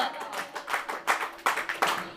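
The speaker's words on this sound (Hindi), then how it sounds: "कोई ताली बजा रहा यूं, कोई ताली बजा यूं" A church congregation claps joyfully during praise worship, producing rhythmic, fairly close hand claps at a lively pace, with faint voices underneath.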